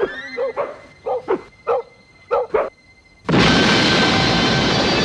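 A dog gives a series of short, sharp barks and yips in irregular pairs, close by, before a sudden loud wash of broadband noise takes over the rest of the moment.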